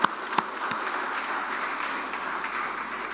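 An audience applauds at the launch of the book Goresan Hati, giving a steady, even wash of clapping that holds throughout, with a few sharper claps near the start.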